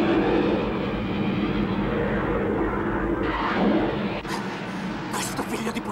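A loud, continuous engine roar from a struggling aircraft descending too fast fills the scene, straining and shifting in pitch, with occasional sharp noises near the end.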